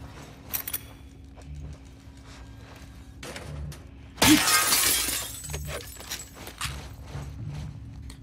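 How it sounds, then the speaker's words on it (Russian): A glass bottle shatters loudly partway through in The Last of Us Part II, a sudden bright crash with scattering fragments that rings out amid quiet game ambience and faint footsteps. "Вы слышали бутылку?"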